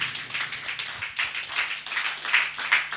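A church congregation clapping together, a steady rhythmic patter of many hands at moderate distance, continuous across the span with no voices over it.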